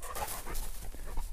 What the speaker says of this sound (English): Just for an exercise, I'll let the dog find him.